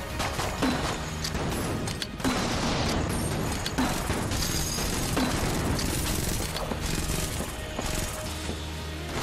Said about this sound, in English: The explosions are throwing me off a little.